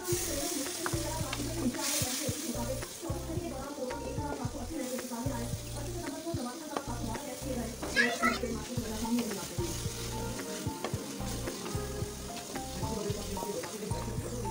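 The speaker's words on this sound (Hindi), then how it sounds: "मसाला अच्छी तरह से भुन चुका है।" Masala of cumin, red chili powder, turmeric, coriander powder, salt and a little water sizzles and fries steadily in a pan while being stirred, with a continuous crackle and soft scraping throughout.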